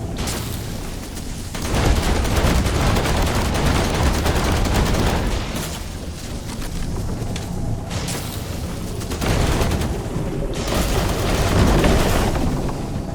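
Gunfire and booming blasts in the video game The Last Caretaker, loud and sustained in heavy bursts across the whole stretch with no clear pauses.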